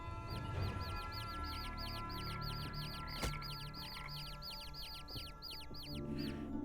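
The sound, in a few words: chickens clucking in video game Niffelheim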